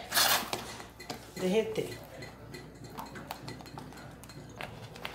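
A spoon scrapes and clinks against a metal pot while homemade mozzarella cheese is stirred, with a loud clatter at the start and lighter taps after, under brief speech.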